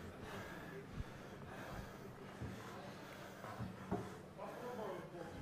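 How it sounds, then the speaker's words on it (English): Arm wrestlers strain at the table during a King of the Table 5 match, their heavy breathing, gasps and snorts rising through a steady bed of background noise and voices, with a few sharp knocks. "You can hear the breathing starting to increase on the table."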